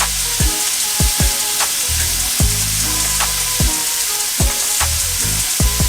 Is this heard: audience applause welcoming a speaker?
no